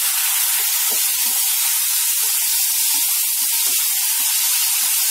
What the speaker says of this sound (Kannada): ಚೆನ್ನಾಗಿ 1-2 ನಿಮಿಷ ಫ್ರೈ ಮಾಡ್ಕೋಬೇಕು.